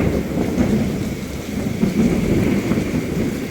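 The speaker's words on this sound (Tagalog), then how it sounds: "So ang lakas ng kulog." Loud thunder rumbles through steady heavy rain near a school, a deep continuous roll with a brief swell midway and no voices.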